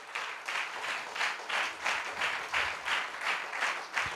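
A church congregation claps in rhythmic bursts, a steady series of loud group handclaps pulsing about twice a second for several seconds, fairly distant and without talk.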